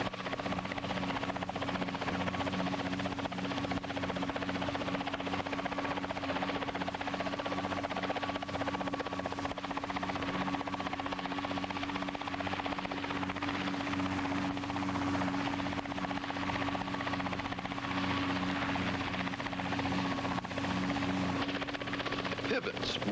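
A Scheutzow Bee helicopter flies a square maneuvering pattern, its rotor and engine droning loudly and steadily with a constant chopping thrum that never lets up.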